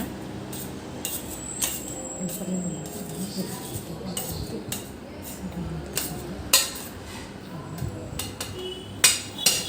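Cooked colocasia greens mashed in a pot with a masher for a greens curry: repeated dull thuds and metallic clinks against the pot at an uneven pace, close and moderately loud, with occasional sharper knocks.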